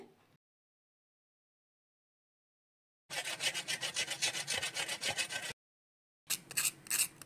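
Close, rhythmic crunching of a crisp fried aloo tikki in two bursts separated by silence, dry and crackly.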